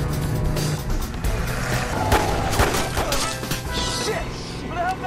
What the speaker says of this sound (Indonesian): Bobby meminta Angel untuk terus menembaki mobil musuh